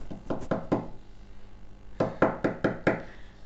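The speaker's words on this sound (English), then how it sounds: "At the same time, she heard the knock on the door." A door is knocked on in two bursts, first three or four quick raps, a pause, then five more firm knocks, close and clear with no talk.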